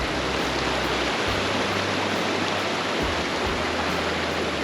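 Mountain waterfall fed by snow runoff, a steady close broadband rush of falling water with a low rumble underneath, continuous and even throughout with no voices.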